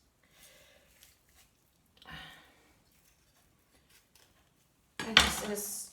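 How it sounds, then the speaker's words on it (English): A kitchen knife works through a chicken joint while the bird is being jointed, giving a few soft, quiet cutting scrapes before a loud close crack and rustle near the end. "So pull the leg out, set and go in. Again, you slice the knife through."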